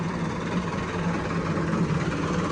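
A Massey Ferguson 385 tractor idles in a village with a low, even engine rumble. The sound holds steady and moderately loud throughout, with no voices.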